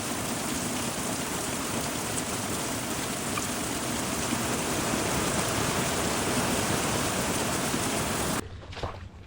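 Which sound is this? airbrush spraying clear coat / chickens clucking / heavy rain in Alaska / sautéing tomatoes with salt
heavy rain in Alaska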